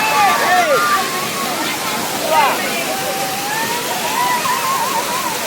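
Suruli waterfall in Theni district pours steadily with people bathing beneath it, a constant broad rush of falling water with splashes, while voices call out faintly over the roar.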